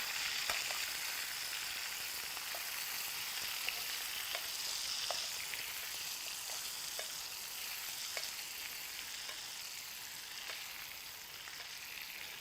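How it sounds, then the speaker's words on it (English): Salmon sizzles in a frying pan while being basted, producing a soft, steady hiss with faint scattered spits and ticks of the spoon throughout, fairly quiet and without speech. "I'm just going to baste the top of it."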